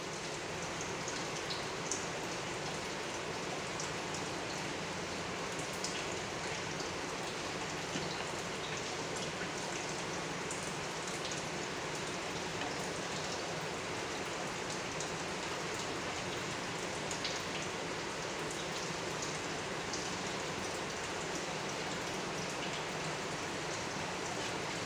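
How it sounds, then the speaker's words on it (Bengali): Egg and potato curry with fried eggs and fried potatoes simmering in gravy, a steady broadband bubbling and sizzling hiss that continues evenly throughout at a moderate level, with no talk. "ডিমগুলা আর একটু ঝোলের মধ্যে ফুটবে, তাহলে ঝোলটা ডিমের ভিতরে যাবে"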